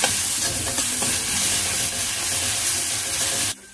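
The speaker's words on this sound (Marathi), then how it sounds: "हलवून घेते" Paste of garlic, green chili and cumin with curry leaves frying loudly in hot oil while it is stirred, a dense close sizzle that cuts off abruptly at the end.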